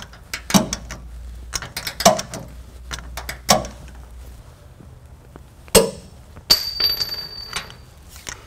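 A socket wrench torquing trailer hitch bolts on a 2004 Ford F-150, with close ratcheting clicks and metallic knocks in scattered bursts and a brief ringing clank near the end, without speech.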